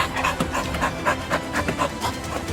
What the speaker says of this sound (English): The state of the dog is alarming as she hyperventilates, a clear sign of exposure to heat.